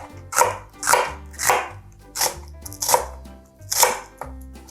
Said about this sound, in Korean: 양파 반개 채 썰어주세요.